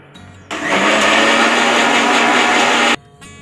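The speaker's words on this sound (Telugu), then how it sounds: "కొబ్బరికాయ చిన్న చిన్న ముక్కలు కోసుకోనండి మిక్సీలో పెట్టుకున్నాను" A kitchen mixer grinder chops small coconut pieces, roaring loudly and steadily for about two and a half seconds before cutting off abruptly, with a quieter hum before and after.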